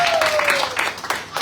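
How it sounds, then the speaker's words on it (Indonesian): A church congregation claps briefly during a sermon, a short burst of applause with a voice carrying over it. "Berikan tepuk tangan."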